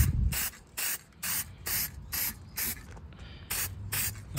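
Aerosol spray paint applied in a second coat to the underside of a 1957 Chevy, heard as about nine short hissing bursts in a steady rhythm, each roughly a third of a second long, close and fairly loud, with no talking.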